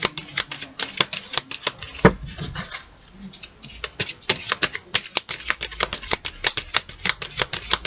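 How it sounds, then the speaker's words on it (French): Tarot cards shuffled and drawn by hand, a fast run of crisp papery flicks and light taps repeating steadily through the stretch, close and fairly quiet, with a brief lull midway and no voices. "Allez, on va tirer 6 cartes."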